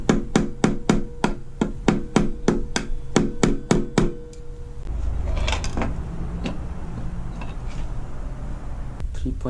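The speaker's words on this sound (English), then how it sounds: "I just use a hammer, vice grip," Sharp, evenly spaced hammer blows ring out in a steady rhythm for about four seconds while a hobbyist fixes a brushless FT009 RC boat with a hammer, vice grip and small screw, followed by rustling, clattering workshop handling noise.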